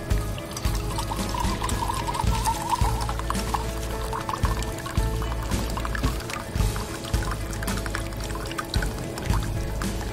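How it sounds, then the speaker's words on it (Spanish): Water is poured into a glass outdoors beside a freshly lit campfire, a steady close pour running for several seconds over a busy low background. "Lo ponemos nuestro vaso y agregamos un poco de agua."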